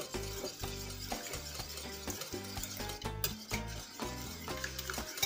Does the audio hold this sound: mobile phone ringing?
no